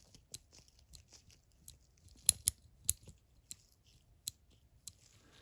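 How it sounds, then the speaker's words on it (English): Quiet, sparse clicks from a vintage early-1960s Snap-On F-710B ratchet mechanism as it ratchets, irregular crisp ticks close by with near-silence between them. "This is what it looks like when it's engaged in ratcheting."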